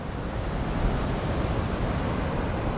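Sea surf rolls steadily along a coastal path, a broad continuous wash of waves with wind rumble on the microphone, loud and unbroken with no voices.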